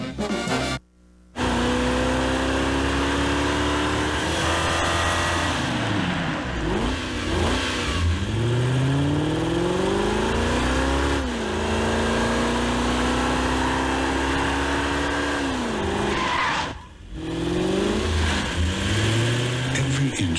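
A Lexus Coupe engine revs repeatedly in a 1992 TV commercial, pitch sweeping up and falling back through several throttle blips and idles, loud and close, with short silent gaps between passes.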